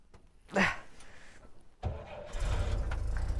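A 1953 Willys Jeep M38A1 with a floor push-button starter: a thump, a brief crank, then the engine catches and settles into a steady, rumbling idle close by.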